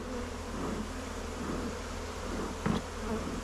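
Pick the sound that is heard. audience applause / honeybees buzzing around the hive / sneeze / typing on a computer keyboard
honeybees buzzing around the hive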